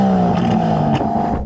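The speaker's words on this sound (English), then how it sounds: "Let's have a listen to the Aston Martin and its V12. Go on, can you rev up that Aston?" An Aston Martin DBS with a V12 engine revs hard nearby, a loud sustained roar with rising and falling harmonics over about a second and a half.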